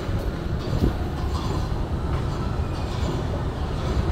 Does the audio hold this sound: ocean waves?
no